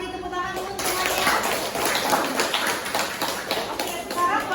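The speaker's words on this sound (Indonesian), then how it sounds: "Beri tepuk tangan dulu semuanya" A classroom of students claps together in sustained applause, a dense, steady patter of many hands filling the room for several seconds, with a few voices mixed in.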